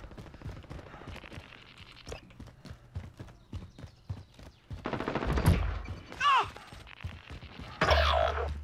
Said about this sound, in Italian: Che cazzo mi sta sparando?